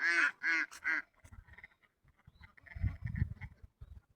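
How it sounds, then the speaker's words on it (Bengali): Many ducks quack on a village wetland at Deora beel in Palashbari village. A close, loud burst of three quacks comes first, followed by softer scattered calls and splashing from the flock. "কত হাঁস আমাদের এই বিলেতে এই দেওরা বিলেতে এই পলাশবাড়ি গ্রামের বিলেতে দেখতে পাচ্ছেন"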